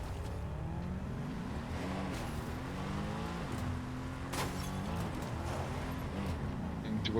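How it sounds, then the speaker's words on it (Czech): A car drives in Fortnite, its engine humming steadily close by with rising and falling pitch as it changes speed, continuing throughout with a few brief knocks on top. "jede auto"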